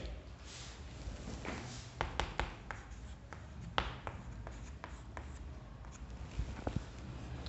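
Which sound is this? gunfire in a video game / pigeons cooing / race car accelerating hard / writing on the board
writing on the board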